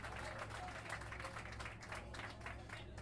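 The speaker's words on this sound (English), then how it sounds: "Let's give a round of applause for our Congresswoman" A crowd aboard an Anacostia boat ride event applauds for a congresswoman, giving a sustained patter of clapping with faint crowd murmur beneath, fairly distant and quiet.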